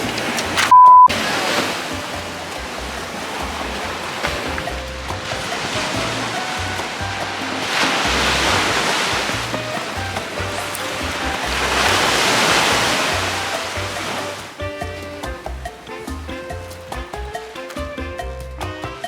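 Waves wash in steadily at Skrinkle Haven beach at high tide, the surf building into two broad swells and easing back, with a short beep early on and some rattling and clatter nearby toward the end.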